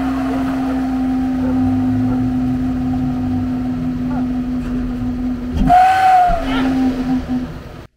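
A homemade whistle fixed to a moving car gives a loud, steady whistling tone over road and wind rumble, then briefly shifts to a higher pitch near the end before settling back.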